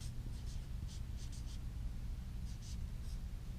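A pen scratching out a sentence in short, soft, intermittent strokes, quiet and close over a low steady hum, with no talking.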